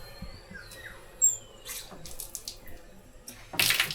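A water tap runs in a clean campsite restroom at Camp Gilmore in Famy, Laguna. Its faint, steady gush is broken by a few brief clatters, then swells louder near the end.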